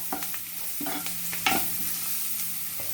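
Spices and a pinch of turmeric frying in a pan for sweet corn upma, a soft sizzle with a few clinks and scrapes of a spoon stirring, close and quiet, without talk.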